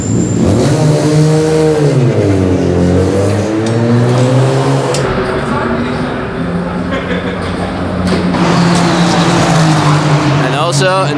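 A video-game car fitted with a Clio RS engine races hard, its engine note climbing and falling through gear changes with tire squeal, while a voice talks over the loud, continuous roar.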